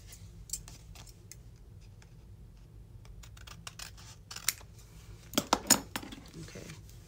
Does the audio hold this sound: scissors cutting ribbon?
yes